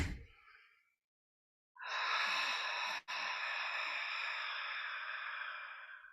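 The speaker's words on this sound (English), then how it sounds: "We also call this the Darth Vader breath." Yoga breathing exercise with a long, steady, audible inhale through a constricted throat, a hissing rasp lasting several seconds with a brief break partway through, close and alone.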